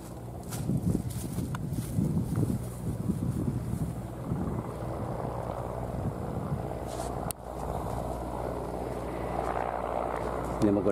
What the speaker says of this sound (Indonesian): Ini menggunakan helikopter